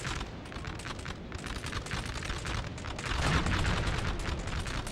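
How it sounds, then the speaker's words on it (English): Artillery cannons fire repeatedly in a Napoleon Total War 3 online battle, a dense, continuous rumble of distant volleys and musketry with no break. "my artillery is not doing a good job. I seem to be shooting right into the ground here."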